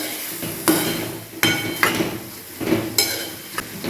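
Cucumber pieces stirred in a pan over low gas, a spoon or spatula scraping and knocking against metal in five or six sharp, irregular clanks with a soft hiss between them; close, with no talking.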